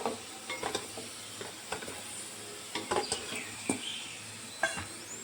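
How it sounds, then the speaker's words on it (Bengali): Atta sweet balls fried in oil, a low, steady sizzle under scattered clinks and scrapes of a spoon lifting them out one by one, with faint bird chirps in the background. "এইভাবে আমি সবগুলো ভেজে নেব"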